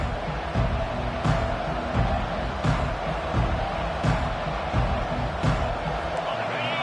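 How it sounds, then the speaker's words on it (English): A large stadium crowd at a college football game roars steadily in a big open space, with periodic thumps and bursts of cheering over a dense background babble. "this crowd is fired up. Listen to this noise here."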